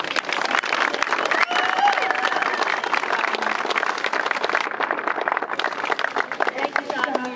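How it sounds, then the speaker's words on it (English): A crowd at a 9/11 responders memorial park groundbreaking applauds two officials, a congressman and a senator, with steady, dense clapping across the whole stretch and scattered voices mixed in. "So let's give them both a round of applause."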